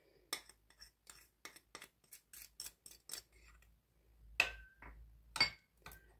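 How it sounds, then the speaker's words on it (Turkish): A spoon clinks rhythmically against a bowl while mixing yogurt with minced garlic, turmeric and salt, a string of crisp, close taps and scrapes separated by brief quiet gaps. "Şöyle yoğurdumuzu karıştıralım."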